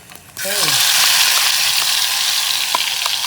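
Ground coriander paste dropped into hot oil: a sudden loud sizzle bursts up and holds as a steady, close, hissing fry until the end.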